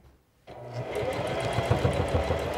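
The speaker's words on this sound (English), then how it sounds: "I will put my presser foot down, and I'm going to start just sewing." Singer Classic 44S sewing machine stitching a pant hem, starting after silence and running as a steady, close, rapid mechanical whir and needle patter with no talk.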